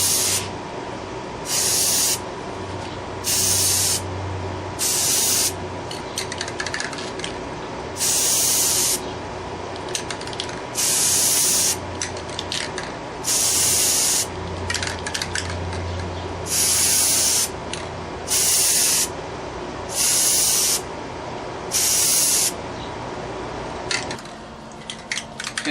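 A second coat of aerosol spray paint going onto a steel wheel rim: about a dozen short, close hissing bursts in an irregular rhythm, with quiet gaps and faint handling noises between sprays.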